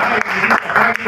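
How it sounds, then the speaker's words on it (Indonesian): An audience at a campus book launch claps briefly and loudly, with a voice sounding over the applause. "Kita tepuk tangan dulu ya."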